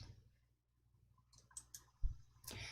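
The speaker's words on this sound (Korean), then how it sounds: "오른쪽 버튼 클릭" A computer mouse gives a few quiet, close clicks over about two seconds during spreadsheet work, isolated and faint against a low background hum.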